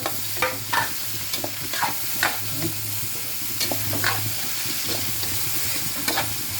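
Liver added to a pan of simmering pork for pansit bato, stirred with a utensil: close, steady sizzle with repeated scraping and clacking strokes against the pan, no talk.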